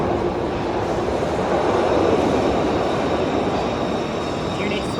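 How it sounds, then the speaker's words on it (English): A Glasgow Subway train pulls into St Enoch station, a broad rumbling roar of wheels and motors that swells slightly, with a faint high squeal near the end. "And arriving in now is my subway train."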